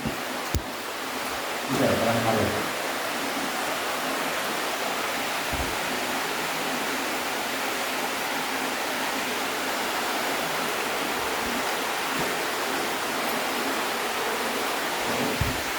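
Water flowing inside the Japanese Passage Cave, a steady, broad rushing wash that fills the space without pause, with a few faint knocks and brief murmurs near the start.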